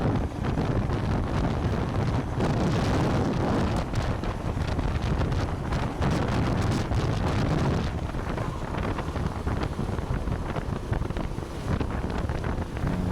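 Steady, loud wind buffets the microphone throughout at a fast kart racing circuit during the Rapla GP 2024 hobby karting series, a continuous roaring gust noise with no talking over it.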